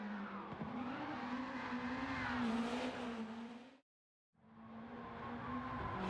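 An Amuse S2000 GT1 Turbo in Gran Turismo 7 drives with a loud, steady engine drone that rises in pitch, cuts out abruptly for a moment, then resumes at a sustained roar.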